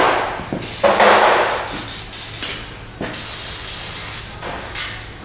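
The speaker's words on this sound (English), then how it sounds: "we'll spray up in our ball joint holes" Short hissing bursts of spray lubricant from an aerosol can are aimed into ball joint holes on a rusted Subaru subframe, several close sprays with brief pauses and a light metallic knock.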